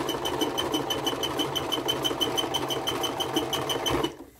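Sewing machine back-stitching an army chevron patch, running in a fast continuous rhythmic chatter up close before stopping abruptly near the end.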